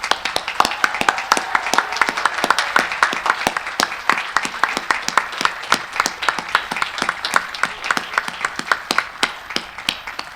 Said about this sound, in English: boisterous applause, lots of noise, very welcome the whole way through